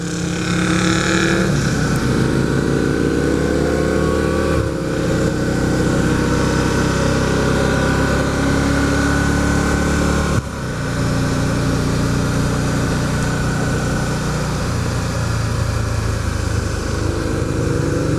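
Sport bike carrying a passenger on the Tail of the Dragon mountain road, passing close by: a loud, steady engine roar that swells and shifts pitch for most of the stretch.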